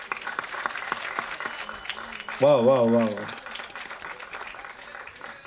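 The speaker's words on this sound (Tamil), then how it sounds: "நல்ல பலத்த கரகோஷம்" A crowd at an evening music concert event claps steadily in the background; a voice calls out loudly partway through, rising briefly above the claps.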